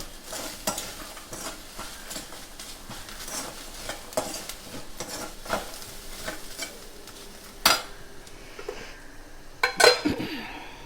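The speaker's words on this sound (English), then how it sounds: "so I'm adding some raw peanuts. So I'll also roast this." Raw peanuts being stirred and roasted in a pan for khichdi: dry scraping and rattling of a spoon against the pan, with a few sharper clinks of metal near the end and no speech.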